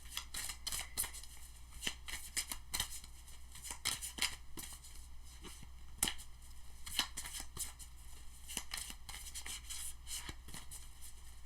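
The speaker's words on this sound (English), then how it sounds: "Two more shuffles." Tarot cards riffle and snap repeatedly in quick bursts, a close, crisp shuffling that keeps going with brief pauses between shuffles.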